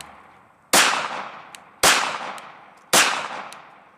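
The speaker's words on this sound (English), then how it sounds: "Let's shoot that old pumpkin there a couple times" Three sharp Glock pistol shots fired outdoors at an old pumpkin, evenly spaced about a second apart, each a loud crack with a short ringing decay and faint metallic pings after.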